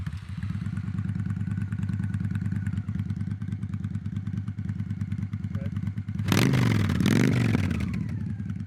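A 2002 Honda VT750 Ace motorcycle with Vance & Hines cruiser exhaust idles with a deep, throaty, loping exhaust beat, then revs hard twice before settling back to idle.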